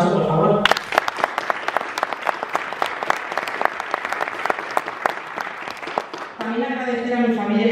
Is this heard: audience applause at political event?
yes